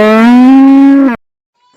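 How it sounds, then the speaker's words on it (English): A single long, loud cow moo with a steady, strongly harmonic tone lasting about a second, heard alone and followed by silence. "cow,"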